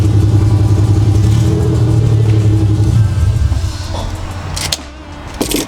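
A BMW E30 fitted with budget exhaust headers revs hard and loud up close, a strong low rumble holding steady for about three seconds, then easing to a rougher idle with a brief blip near the end.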